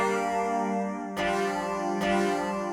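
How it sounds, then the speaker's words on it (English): Vapor Keys synth playing a layered patch of Midway Rhodes and Fairlight 5, sustained warm chords with a chorus-like shimmer, re-struck twice so that new chords bloom over the decaying ones, alone with no voice. "So I'm layering out the Midway Rhodes and the Fairlight 5, and it sounds like this."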